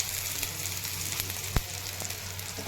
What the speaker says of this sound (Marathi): थापून घेतल्या तव्यावर टाकून घेते